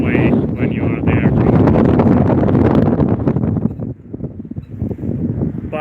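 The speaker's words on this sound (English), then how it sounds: "It's windy here" Wind gusting across a harbour in Iceland with snow on the surrounding mountains, a steady loud roar buffeting the microphone throughout, easing briefly near the end, with a voice talking over it.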